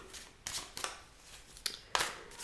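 A deck of tarot cards is shuffled by hand with several quick, crisp riffles and flicks in irregular bursts, close and quiet, separated by short pauses.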